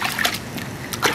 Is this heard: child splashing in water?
yes